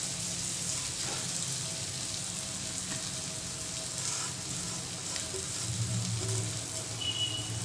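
Roasted semolina tipped into a pan of steamed vegetables for upma, giving a steady close sizzle and frying hiss with light stirring scrapes, no voices.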